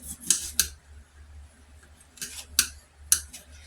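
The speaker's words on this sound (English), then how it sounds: "I take my plate down here as a cutting board and cut this in half, like so." A knife slicing a tomato in half on a plate used as a cutting board: several crisp, sharp cuts and taps close by, in irregular pairs, with no talk.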